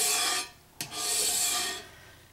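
A razor scraper rasps across the surface of a cast iron skillet to lift off stuck-on gravy, two loud, steady scraping strokes, close up, with a brief knock between them and no talking.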